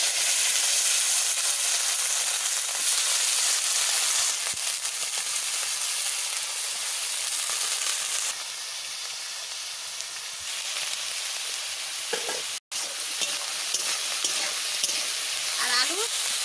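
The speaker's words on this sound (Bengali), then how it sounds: "তেল গরম হয়ে গেছে, ধুমা উঠতেছে। এইবারটা আমি পেঁয়াজ আলু দিয়ে দিচ্ছি।" Onion and potato sizzle in smoking-hot mustard oil for samosa filling, a loud, dense, steady frying hiss with occasional stirring scrapes and a brief gap near the end.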